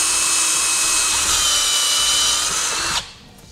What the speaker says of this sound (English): Now we're going to use a 5/8 either hole saw or drill bit.